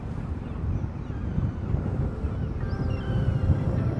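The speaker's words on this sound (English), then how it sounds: "Today is a bit windy, so there's a lot of noise around" Steady low rushing wind buffeting the microphone outdoors by a river in Porto, a continuous rumble with no voices.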